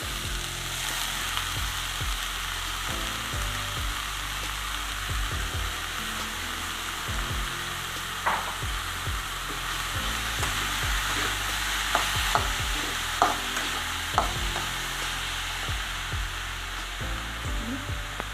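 Chopped onion and cabbage stir-fried in a pan for an Onam-style cabbage thoran, with a steady loud sizzle throughout and occasional scraping clicks of a spatula against the pan.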